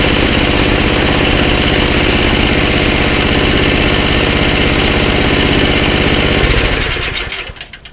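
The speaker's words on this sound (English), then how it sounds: "Got a pretty good idle." A Craftsman 24-inch 5HP snowblower with a Tecumseh engine idles loud and close after a carburetor cleaning, a steady rapid chugging that cuts out in the last second as the engine shuts off.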